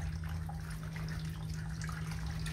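Water streams steadily from a nozzle after its nut is unscrewed, a continuous close splashing flow with no voices.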